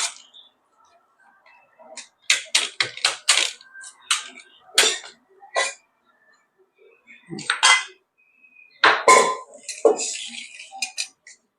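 Repeated metallic scraping and clinking of a utensil mashing cooked lentils in a pot, in irregular bursts with short pauses, close by.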